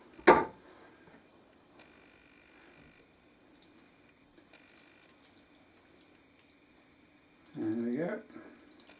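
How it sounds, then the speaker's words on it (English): Water poured into a pot of orange and lemon juice while making marmalade, about 200 ml: a short splash at the start, a quiet pause with faint kitchen noise, then a brief steady pour near the end. "And to that I'll add the 200 ml of water."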